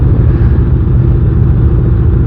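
Motorcycle engine running steadily close by, a loud, continuous low rumble with no speech over it.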